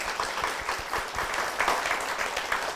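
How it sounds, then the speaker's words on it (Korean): An audience at a Korean church program claps as a guest is welcomed onto the stage, a steady mass of applause with quick individual hand claps showing through. "박수 부탁드립니다."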